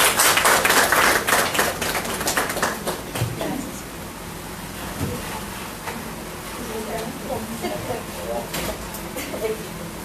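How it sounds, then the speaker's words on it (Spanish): An audience claps to welcome a speaker at a regional nursing course on wounds and ostomies. The applause is dense and loud at first, then thins into scattered claps and faint murmuring. "Recibamos con fuertes aplausos a Rosemary"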